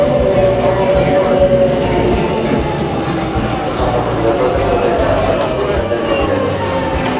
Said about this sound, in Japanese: さあ電車が入ってきました。